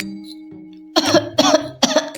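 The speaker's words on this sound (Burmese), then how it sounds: "ဒီချိန်မှာပဲအဖိုးတို့တယောက်က ချောင်းဆိုးရင်းနဲ့သူတို့ရင်ရှိကနေဖြတ်နေခဲ့တယ်" An elderly man coughs three times in quick, harsh bursts, close and fairly loud, after a short stretch of steady tones in an animated cartoon scene.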